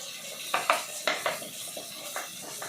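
A metal ladle stirs onion-tomato sambar in a cooking pot, making a few soft scraping clinks and wet swishes in an irregular rhythm, faint and close, with no talking.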